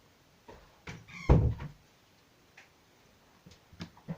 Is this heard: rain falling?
no